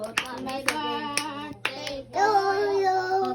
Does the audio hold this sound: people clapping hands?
yes